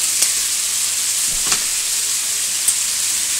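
Bacon strips sizzling and frying in a pan, a steady close bright hiss with a few soft crackles and pops, no voices.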